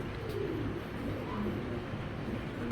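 Soft, low cooing of long-flying pigeons at a farm murmurs continuously at a moderate distance, blending into a steady background hum with no talking.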